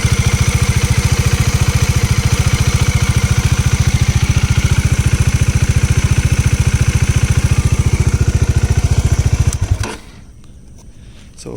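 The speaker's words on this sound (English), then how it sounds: "the tick tick tappet noise." A motorcycle engine idles steadily with a rapid, even ticking from the tappets running through it, loud and close, then cuts off abruptly near the end.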